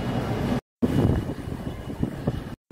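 Gusty wind buffets an outdoor microphone, producing a rough low rumble that surges and drops, briefly cut by two short gaps of silence.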